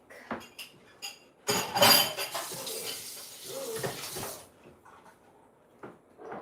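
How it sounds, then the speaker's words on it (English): A bowl is set down into a kitchen sink while breakfast is cooked, giving a bright burst of clattering, clinking dishware in the middle of quieter kitchen sounds. "Bowl in the sink."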